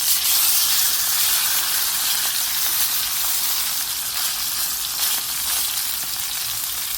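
Rosemary sprig and garlic cloves sizzling in hot beef tallow in a cast iron pan, a steady bright crackling hiss that stays loud and close throughout, with no talking.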